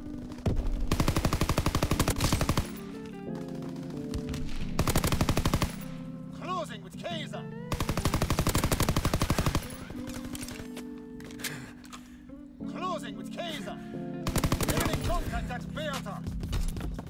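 PPSh-41 submachine gun in Call of Duty WWII fires in several long, rapid bursts, loud and close, separated by short pauses filled with quieter game sounds.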